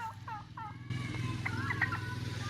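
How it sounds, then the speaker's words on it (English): Turkeys at a rural house gobbling in short rolling bursts, several calls overlapping at moderate distance over a steady low engine rumble, with no talk. "Look at all those turkeys."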